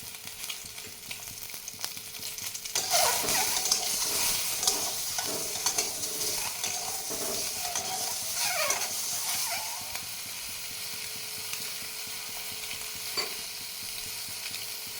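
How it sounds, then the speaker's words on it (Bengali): An egg fries in a pan with a steady broadband sizzle and hiss, joined by scraping stirs and clinks of a utensil that grow busier midway before settling back to an even sizzle. "ডিম ভাজা হয়ে গেছে আমার, নামিয়ে নিচ্ছি।"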